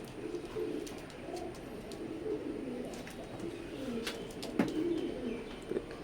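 Teddy pigeons, Saki-line birds kept in a loft, coo in low, rolling murmurs that run continuously with a few louder throaty swells, mid-distance and moderately clear against faint background noise.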